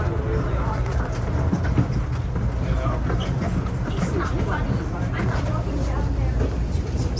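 The Denver airport underground people-mover train runs through its tunnel, a steady low rumble and motor drone with rattling and wind noise, loud and continuous throughout with faint voices mixed in.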